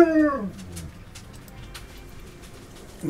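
Dog sounds from the video game Rimworld: a loud, wavering howl that falls into whimpering, followed by faint scattered chirps.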